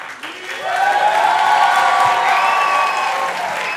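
An audience breaks into sustained clapping mixed with whoops and cheers, rising quickly to a full, steady ovation that holds and then eases slightly toward the end.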